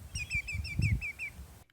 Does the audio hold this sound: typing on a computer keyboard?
no